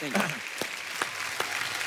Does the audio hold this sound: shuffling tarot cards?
no